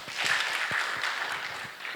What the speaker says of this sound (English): let's give a good hand clap for that